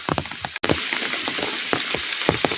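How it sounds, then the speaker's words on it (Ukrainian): Heavy rain pouring in a forest at dusk, a dense continuous hiss with sharp nearby drips and taps and a brief dropout, loud and close to the microphone. "Дощ не то, що став, легший чи зупинився, а наоборот, набрав ще більших оборотів."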